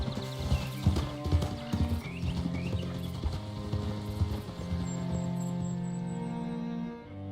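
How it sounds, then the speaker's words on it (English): Horse hooves clip-clopping at a steady walking pace, close and prominent over a sustained low musical drone, continuing throughout with no talk. "Hitch your horse up here."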